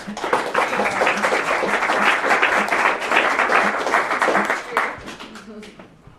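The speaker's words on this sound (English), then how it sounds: "So with a wild round of applause, please help welcome Monica Gutierrez" Audience at a Denver small-business marketing event breaks into sustained, lively applause to welcome a speaker, a dense wash of clapping that holds steady and then tapers off near the end.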